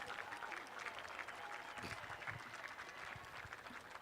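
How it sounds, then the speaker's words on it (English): Graduates at a Ponderosa High School graduation ceremony applaud their families, a dense, steady wash of clapping from a large crowd that fills the whole stretch at moderate distance. "please rise and face your families and give them a round of applause for their support and encouragement over the last 4 years."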